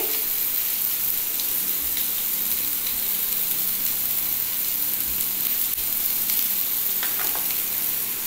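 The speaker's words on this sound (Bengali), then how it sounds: "পেঁয়াজটাকে হালকা একটু ভেজে নিচ্ছি" Sliced onion, salted, fries lightly in a pan, giving a constant soft hiss with occasional faint clicks and crackles and no voices.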